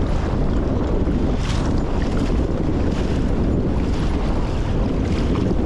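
Strong storm wind buffets a microphone on an Old Town Sportsman 106 PDL kayak out on the water, a loud, steady roaring rush with no letup.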